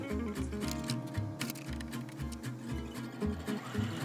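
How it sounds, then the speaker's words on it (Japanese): A sewing machine quilts three pinned layers of fabric, running with a fast, even mechanical chatter and rhythmic low thumps of the needle, close and steady without talk. "日用品のキルティングはミシンでやる派。"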